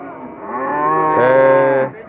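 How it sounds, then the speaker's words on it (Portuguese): A dairy cow at a cattle market gives one loud, drawn-out moo close by, rising in pitch midway and cutting off after about two seconds. "Aqui, pessoal, mais outras vacas."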